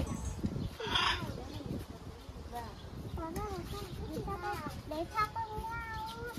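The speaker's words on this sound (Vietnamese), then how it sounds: "À, đây là con dê." Goats bleat several times in short wavering cries while people talk and children chatter nearby at a zoo safari park in Quy Nhon.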